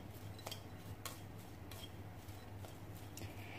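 Julienned papaya and ginger being tossed with salt and sugar in a bowl, soft rustling with a series of light clinks of a utensil against the container at irregular intervals, quiet and close, no voices.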